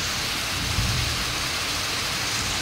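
Heavy, blurring rain pours down in a dense, steady roar, with a low thunder rumble briefly swelling beneath it; no one speaks.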